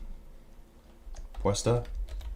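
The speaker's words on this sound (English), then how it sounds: "I'm typing in the dark, guys" Quick clicking of keys typed on a computer keyboard in the dark during live cycling race commentary, a brief burst of taps mixed with a voice speaking nearby.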